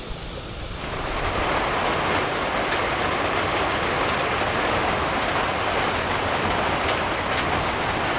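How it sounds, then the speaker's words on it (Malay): Heavy rain pours down in a dense, steady roar, with gusting wind swelling in after a quieter first second, during a thunderstorm on a river. "Hujan lebat lah. Hujan lebat, angin kuat dan kilat guruh."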